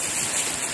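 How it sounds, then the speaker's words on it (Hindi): Heavy rain falls with strong wind, a steady, dense hiss that fills the short stretch evenly, with no voices. "बहुत तेज़ बारिश हो रही, साथ में जो है हवा भी बहुत तेज़ है।"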